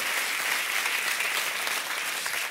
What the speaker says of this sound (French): Est-ce qu'on peut applaudir bien fort Céline, s'il vous plaît?